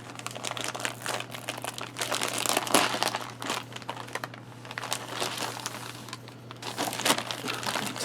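A Swedish special-purpose arctic ration pouch is torn and crinkled open, giving close, continuous crackling and rustling of packaging with sharp crunchy bursts.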